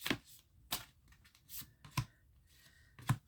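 Tarot cards are handled and drawn from the deck in a quiet room, giving soft, brief flicks and slides that come a few at a time, with low background noise between them.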